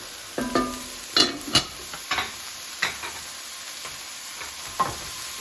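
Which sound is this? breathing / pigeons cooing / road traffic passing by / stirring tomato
stirring tomato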